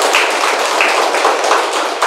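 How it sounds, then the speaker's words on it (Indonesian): A room of women in an audience clapping hands in a brisk, even rhythm, close and fairly loud with no talk over it. "Boleh tepuk tangan kembali ibu-ibu semua?"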